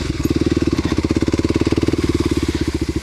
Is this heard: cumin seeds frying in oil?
no